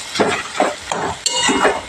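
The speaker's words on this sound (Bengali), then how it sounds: "এবার আমি তরকারিটাকে একটু ভালো করে নেড়ে নিচ্ছি।" A spoon stirs pui shak chorchori, a Malabar spinach curry with coriander leaves, in a sizzling pan, making loud repeated scraping strokes over a steady frying hiss.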